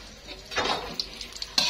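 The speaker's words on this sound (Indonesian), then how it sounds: "Nah, itu Leyanya sudah mulai goreng kue cucurnya." Kue cucur cakes frying in hot oil at a food stall, a sizzling hiss that swells as batter goes in, followed by a few light metallic clinks of a pan or utensil.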